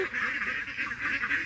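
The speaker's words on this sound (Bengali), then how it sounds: "রাজহাঁস, এই যে রাজহাঁস, পাতিহাঁস, মুরগি সবই আছে।" Geese and ducks honk together nearby, a loud run of repeated nasal calls overlapping in quick succession, with no talk.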